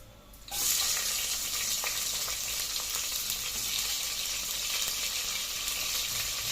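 Sliced onions frying for chicken biryani, a sharp onset after a quiet start into a loud, dense, steady sizzle that holds close and constant throughout.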